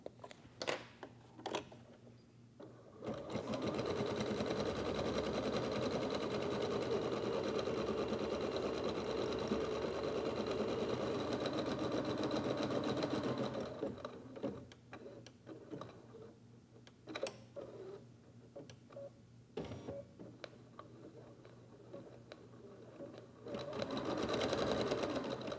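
An embroidery machine stitches a softie in the hoop with a steady rapid mechanical whirr and ticking for about ten seconds, then slower intermittent stitching and clicks, close up.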